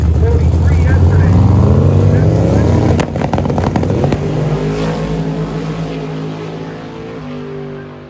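Drag race cars launching at an outdoor event, a Pontiac against a nitrous-fed Chevy Cordova, with loud engine roar right from the start, a sharp burst near three seconds, then a sustained pull that slowly fades as the cars move away.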